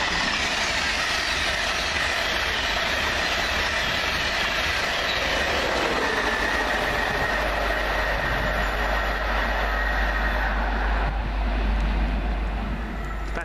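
An East Coast service train passes southbound at Alexandra Palace, a loud, close, continuous rumble of wheels on rail with clicking joints and some squeal, with no voices.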